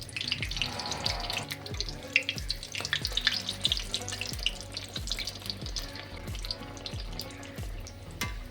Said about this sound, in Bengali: এবার একটা কুমড়ো ভাজছি।